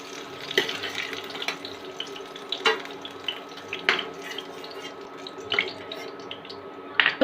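Halved green chillies fry in a pan with a steady low sizzle, broken every second or so by sharp crackles and a few clinks of stirring.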